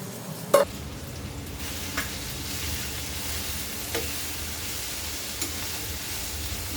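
Chopped taro leaves with their stems drop into a hot pan with a sharp clatter, then sizzle steadily while being stirred, with a few soft scrapes of the spoon against the pan.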